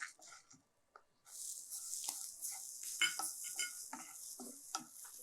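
Grated coconut roasting with asafoetida in a pan, with a close, dry sizzle and repeated scraping stirs of a spoon against the metal, starting quietly and then continuing steadily.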